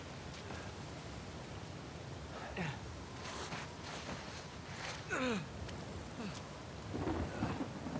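Heavy rain and rolling thunder from a storm at sea in the video game Uncharted 4, with a constant rain hiss broken by several loud rumbling crashes and surging bursts.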